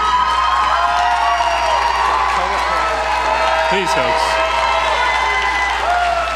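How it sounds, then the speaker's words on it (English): An audience at a Binghamton public hearing on a gas drilling environmental review claps and cheers in a steady, dense wash. A voice speaks over the crowd, asking for quiet. "your applause will only delay the process here"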